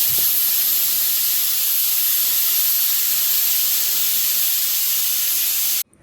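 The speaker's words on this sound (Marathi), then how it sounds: "इकडे कुकरच्या सुद्धा शिट्ट्या होत आहेत" A pressure cooker on a home kitchen stove vents steam in a loud, steady hiss that runs unbroken for nearly six seconds, then cuts off abruptly, with no talking.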